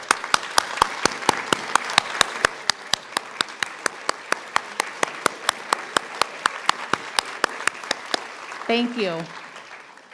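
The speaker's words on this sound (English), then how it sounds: "let's give you a round of applause" Audience applause at a 2021 nurse pinning ceremony: a sparse, regular series of sharp individual claps close by, steady for about eight seconds before a voice briefly says something at the end.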